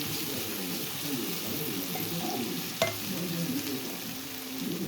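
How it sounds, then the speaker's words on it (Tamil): Sliced onions with ginger garlic paste sauté in a pan with a continuous soft sizzle, stirred now and then, with a single sharp clink of a utensil against the pan partway through. "இதில் வந்து இஞ்சி பூண்டு பேஸ்ட் போட்டு நம்ம நல்லா கொஞ்சம் நேரம் வதக்கிட்டு"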